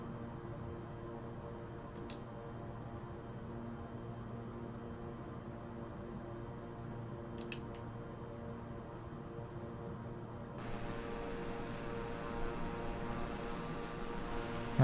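Steady turboprop engine drone of a Beechcraft King Air 350i in Microsoft Flight Simulator, a continuous low hum with two faint clicks, brightening into a louder hiss in the final seconds, with no talking.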